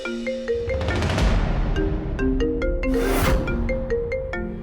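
A phone ringtone plays loud and close, a repeating melodic electronic chime pattern running the whole time, with a couple of louder bursts in the middle.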